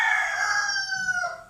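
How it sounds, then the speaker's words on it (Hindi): A rooster crows once, a loud, clear, drawn-out cock-a-doodle-doo that rises and then trails off, heard alone. "मुर्गे को बहुत तकलीफ़ हो रही है भाई"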